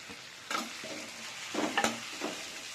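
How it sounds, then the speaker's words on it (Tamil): Carrots and capsicum sautéing in a pan for mutton fried rice, with a low sizzle and a few distinct stirring scrapes and clacks of a spoon, close and fairly quiet. "நான் இதில் நல்லா வதக்கிடுறேன். இப்போ குடமிளகாய் சேர்த்துக்கிறேன்."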